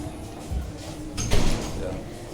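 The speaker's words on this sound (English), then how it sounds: "Somehow I think we need to close that door." An indoor door is closed, with a soft rolling slide followed by a dull thump partway through, heard under a person talking.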